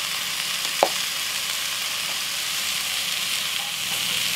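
Tomato paste sizzling and frying in a Dutch oven on a gas grill while cooking beef pot roast, a steady close hiss with one brief sharp click early on.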